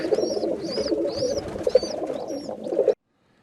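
Several pigeons coo softly and repeatedly in a close, steady murmur, ending abruptly after about three seconds.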